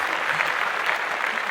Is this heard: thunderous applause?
yes